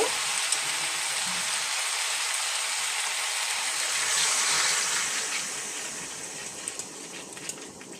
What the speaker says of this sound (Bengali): এখন আমি এটার মধ্যে পরিমাণ মতো জল দিয়ে দেব